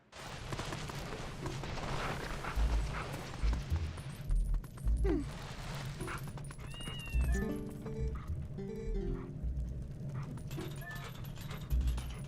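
A cat meows several times in Zelda: Twilight Princess, its short mewing calls standing out over steady game background sound and music.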